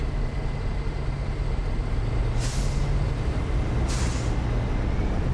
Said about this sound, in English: You hear some of the air brake sounds too